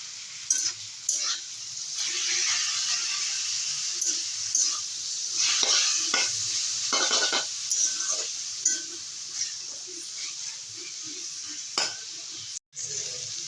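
Boiled cabbage stir-fried in a pan for chow mein makes a steady sizzle with repeated scraping stirs and occasional clinks of utensil on metal.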